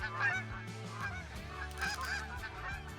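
Snow geese in the hunting game Call of the Wild honk over and over in a loud, overlapping flock chorus. The calls sound close and come with no speech.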